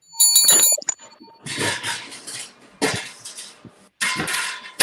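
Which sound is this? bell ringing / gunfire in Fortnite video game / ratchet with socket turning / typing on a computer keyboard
bell ringing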